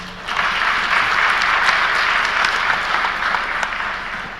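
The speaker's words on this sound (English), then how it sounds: "Put a round of applause for all of you." A large conference audience of several hundred at a supply chain talk claps together, a dense, steady wash of applause that swells in quickly and holds at an even level throughout.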